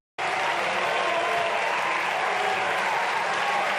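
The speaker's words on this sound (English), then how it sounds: "They're all getting up and clapping for her." An audience rises to its feet and applauds, a loud, dense and continuous wash of clapping that starts abruptly and stays steady to the end.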